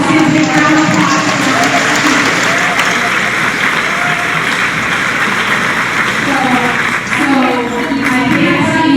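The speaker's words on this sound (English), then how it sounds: "So let's give a big round of applause." A high school audience at a voter registration event claps loudly and continuously, a dense sustained wash of applause with crowd voices mixed in.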